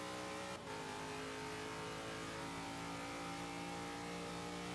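A Holden race car engine in the Forza 5 racing game revs hard and continuously, a loud sustained roar with shifting pitch and a brief dip early on, with no voices.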